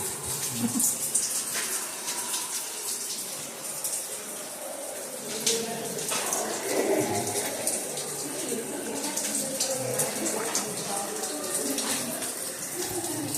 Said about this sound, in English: It's raining right here.